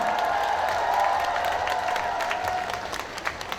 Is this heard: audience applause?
yes